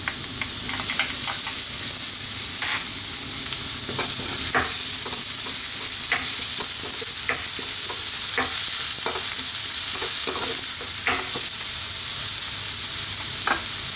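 Garlic and celery sauté in a hot pan for vegetable spring rolls, a loud continuous sizzle close up, broken by regular scraping stirs, with no talking.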